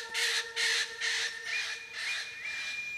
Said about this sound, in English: Eclectus parrots are the pinnacle of parrot evolution.